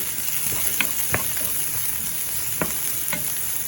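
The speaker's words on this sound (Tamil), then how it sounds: "இந்த வெட்டி வச்ச வெங்காயம் காஞ்ச மிளகாய் கருவேப்பிலை எல்லாத்தையும் போட்டு கிளறுவோம்" Onions, dried chilies and curry leaves fry in hot oil, a steady close sizzle broken by a few sharp scrapes of a spoon stirring the pan, with no talking.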